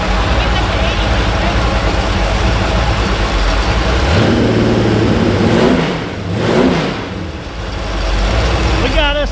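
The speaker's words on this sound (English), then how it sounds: "We got us a dirt track motor" A small block Chevy dirt track engine runs loud and close, holding a rough idle, then revving up and dropping back twice before settling.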